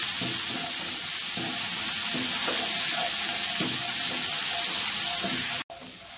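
Crushed galangal frying with spices in a pan, a steady loud sizzle with soft stirring scrapes, close up, ending in a brief cut.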